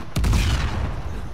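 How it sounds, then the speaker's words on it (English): Gunshot headshot in Uncharted 4, a single sharp loud blast followed by a booming tail that fades over about a second; no speech. "I've got these two bullets and we'll get a headshot there"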